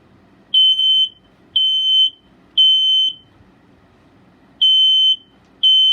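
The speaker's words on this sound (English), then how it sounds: "we'll test the smoke alarm again for you." A Gentex smoke alarm under test gives five loud, piercing electronic beeps, each about half a second long, at a steady rhythm with a gap where one beep is skipped, over a quiet room background.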